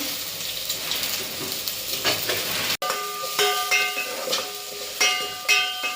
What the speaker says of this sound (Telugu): 1 స్పూన్ ఆయిల్ హీట్ కాగానే జీలకర్ర, ఆవాలు వేసుకొని ఆనియన్స్, కరివేపాకు,